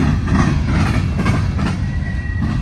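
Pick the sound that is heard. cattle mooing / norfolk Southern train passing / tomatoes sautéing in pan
norfolk Southern train passing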